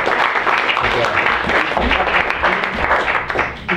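An audience claps and cheers at an evening club meeting as a woman named Melody comes forward, steady dense applause running throughout at close range with some voices mixed in.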